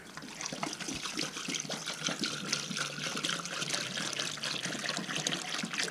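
Water pours and trickles steadily without pause into the cavity of a turkey, a close, continuous splashing stream that fills the whole stretch.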